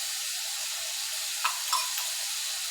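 Ground spices and masala fry in oil for a prawn malai curry with pui shak, a continuous soft, hissy sizzle with a couple of brief louder crackles near the end, with no voices.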